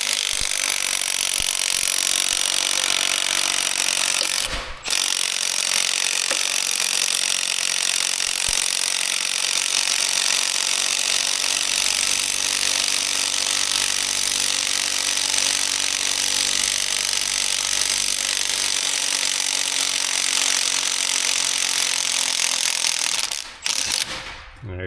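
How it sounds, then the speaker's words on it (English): An impact gun hammers loose the harmonic damper on a Corvette's LS6 engine. It makes a loud, continuous rattling buzz for about twenty seconds, with a brief break early on. "now should just be able to zap it with the gun and get this thing off"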